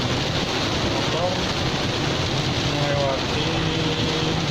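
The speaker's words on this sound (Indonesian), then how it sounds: "Motor yang nekat hujan-hujan deras ini karena menggunakan motor" Heavy rain falls on a city street near Fatmawati hospital in Jakarta as a motorbike rides through it, a steady dense wash of rain and road noise with faint engine tones underneath.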